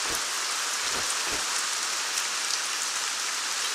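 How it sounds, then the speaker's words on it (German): Steady rain pours down heavily in the video game ArcaniA, a dense hiss of drops striking surfaces, with a few brief low thumps early on. "hier regnet es echt übel"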